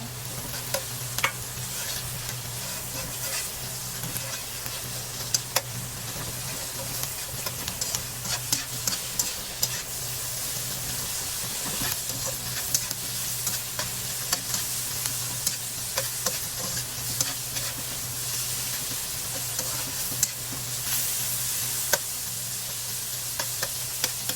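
Meat sizzles steadily in a hot pan as it is stirred in for a kangkong dish, with scraping clicks and clatters of the utensil rising over the constant frying hiss, close and with no talk.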